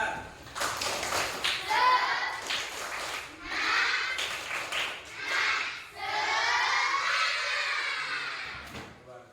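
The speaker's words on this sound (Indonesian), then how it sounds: "coba tepuk semangat" A classroom group of students claps a rhythmic spirit chant (tepuk semangat), bursts of patterned clapping mixed with loud children's voices chanting and shouting along, lively and close throughout.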